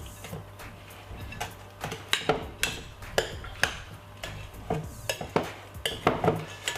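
Rice salad gets mixed together in a bowl, with repeated rhythmic clinks and scrapes of a utensil against the bowl over a low hum, close and moderately loud.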